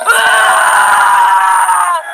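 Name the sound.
man screaming in a horror story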